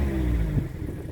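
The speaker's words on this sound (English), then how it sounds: "when it fires up, the way the car's made, you get this sort of raspy note when you first fire up" A Mazda MX-5 RF with a 1.5 SKYACTIV-G engine fires up nearby, giving a short raspy crank-and-catch that settles into a low, steady idle hum.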